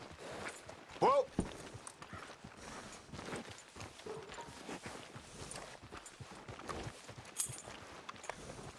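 Horse hooves clip-clop in Red Dead Redemption 2, a steady walking beat beneath game dialogue and ambient sound, with a brief louder burst near the start.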